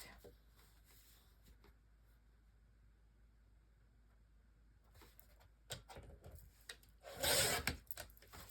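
Paper being cut to 7 3/8 by 3 3/8 inches for a Nutcracker Christmas album, heard as a quiet run of soft scrapes and rustles that ends in a louder, brisk burst of cutting close by.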